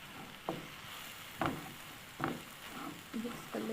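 Carrot halwa with added milk powder is stirred in a pan with the flame off, a spoon scraping the pan in slow, regular strokes over a faint background sizzle, close and moderately loud.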